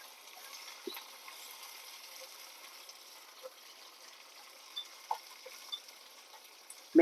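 Soft, steady sizzling of spices frying in hot oil, with a few small pops and crackles scattered throughout.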